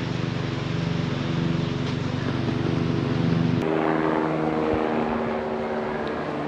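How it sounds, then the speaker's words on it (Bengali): A helicopter flies among the Annapurna mountains, its steady engine and rotor drone holding throughout, fairly loud and continuous, with a sudden shift in tone partway through as if it turns or passes. "এখানে হয় খাবারের জন্য নয়তো রেস্কিউ করার জন্য কোনো হেলিকপ্টার এসেছে।"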